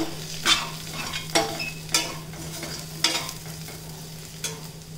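Jackfruit seed curry fries in a pan with a steady sizzle, punctuated by about five distinct scraping stirs of a spatula against the metal, close up and without talk.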